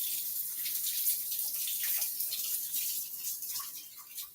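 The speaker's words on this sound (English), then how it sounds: "Take a couple mushrooms out. Rinse them off." Mushrooms rinsed under a running kitchen tap produce a steady, close hiss of flowing water with slight splashy variations throughout.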